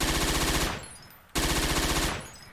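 A Thompson submachine gun firing extremely fast in a video game on the Medjez el Bab map: two long, continuous bursts of loud rapid fire, separated by a short pause.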